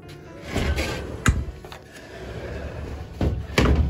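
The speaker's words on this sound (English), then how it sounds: "Quickly closing the doors every time." Greenhouse doors on a freezing winter day shut quickly one after another, giving several sharp wooden knocks and bangs with rustling and shuffling in between, close by and without talk.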